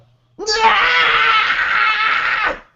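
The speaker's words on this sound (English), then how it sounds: "Try not to scream directly into the mic." A loud, sustained scream or wail, about two seconds long, delivered close into a microphone with a sudden onset and an abrupt stop.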